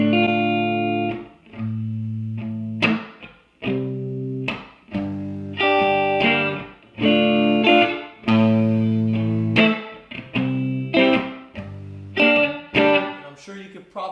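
Electric guitar played through a 1959 Gibson GA-88 stereo tube amp, a run of clear sustained notes and chords plucked one after another with decaying tails, fairly loud and alone with no talking.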